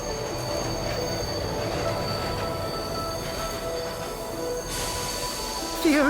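A video game train in Bright Paw rumbles steadily along the rails with a constant drone, a high metallic wheel squeal ringing over it, close and loud throughout.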